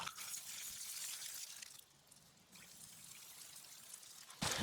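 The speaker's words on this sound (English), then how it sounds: "now I'm just gonna hose out the housing" Water from a hose rinses out the housing of a Graco Magnum X7 airless paint sprayer, a steady close spray and splash that dips briefly in the middle and surges louder at the end.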